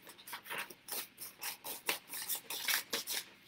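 Scissors cutting out paper pictures close up, a quick rhythmic series of crisp snips and slicing rasps, roughly a dozen in a row, with no talk.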